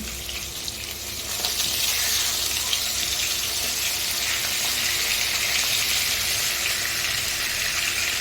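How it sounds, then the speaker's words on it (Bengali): A catla fish head frying in a pan gives a steady, fairly close hiss and crackle of hot oil that swells after a quieter first second and then holds evenly. "আমি মাছের মাথাটা এবার ভেজে নিচ্ছি।"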